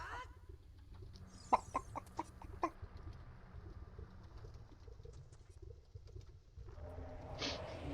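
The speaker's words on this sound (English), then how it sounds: "Do I hear chickens?" Chickens cluck in The Legend of Zelda: Ocarina of Time Randomizer, a short run of clucks bunched early on over a steady bed of game ambience. A higher chirpy call rises near the end.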